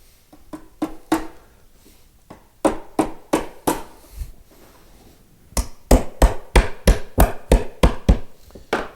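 A hammer taps a wooden dovetail joint together in sharp, close knocks, first a few scattered groups and then a quick, evenly spaced run of firmer blows.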